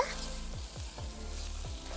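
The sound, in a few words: rice being fried and stirred in a pan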